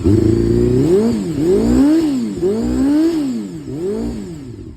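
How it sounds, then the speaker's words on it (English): A Honda CBR250RR MC22 four-cylinder motorcycle engine, recently fitted with a new rectifier, revs up and down repeatedly close by, its pitch rising and falling in several loud swells over a steady idle. "we'll give her a little rev"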